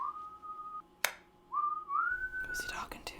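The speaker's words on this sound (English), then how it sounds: "Because he's whistling, like happy whistles." A man whistles a cheerful tune in the TV show Breaking Bad, sliding rising and falling notes broken by a sharp tap, fairly close and clear with faint room noise.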